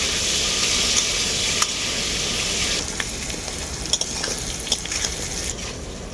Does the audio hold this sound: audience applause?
no